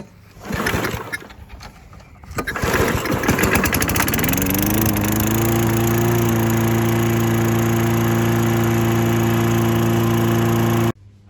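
A 25-year-old push lawn mower fitted with a new replacement carburetor is yanked on the pull cord with rough sputters, then catches and settles into a loud, steady engine drone that runs alone until it is cut off abruptly.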